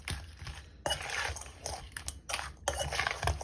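A big serving spoon stirs Liberian pepper crab in a pot, with scraping and clinking of metal against the pot in uneven bursts, close and moderately loud, with no talking.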